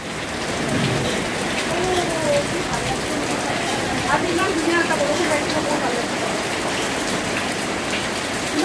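Heavy rain pours down steadily on surfaces outdoors, a dense continuous hiss with faint rumbles of thunder and voices talking in the background.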